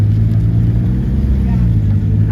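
A Dodge Charger with a Stage 2 tune drives off at a cars-and-coffee meet, its deep engine rumble steady and loud, with a strong low-end drone that holds across the moment, while people talk nearby.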